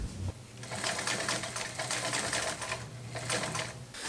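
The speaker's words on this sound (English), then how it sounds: "I sewed a simple hem into the top of the extension collar." Sewing machine stitching a hem into backpack fabric, a fast steady mechanical chatter that runs continuously and close up for several seconds with no talking.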